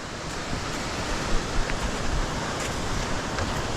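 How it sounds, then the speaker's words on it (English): Roaring waterfall on the snow-covered West Fork Foss River in the Alpine Lakes Wilderness, a steady, loud wash of broadband rushing water with no breaks, heard close and alone. "I think we're coming right to the top of that big, big waterfall."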